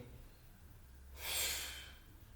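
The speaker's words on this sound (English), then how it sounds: "Keep breathing." A single loud, close exhale of heavy breath rises and fades over about a second during a yoga crow pose workshop, set against a quiet room.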